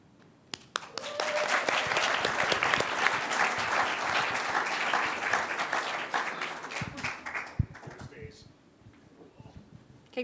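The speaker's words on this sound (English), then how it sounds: "Keep clapping." Sustained applause from a conference audience at a regional mini-conference in Canberra, dense clapping that swells, holds steady for several seconds, then thins out, with some voices talking over it.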